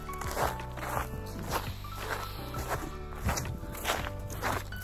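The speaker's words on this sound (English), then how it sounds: "Can you hear the sound, like footstep ka sound?" Footsteps crunch at a steady walking pace along a trekking trail in a South Sikkim wildlife sanctuary, close and continuous, with an outdoor hiss behind them.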